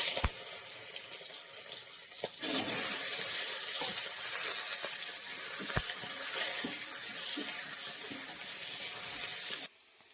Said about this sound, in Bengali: এবার আমি আলুগুলো ভেজে নেবো ভিতরে